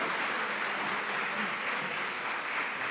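Steady, even applause fills a public hearing hall on a housing consumer protection bill in Worcester, Western Cape, as the audience claps for the councillors, with no voices standing out.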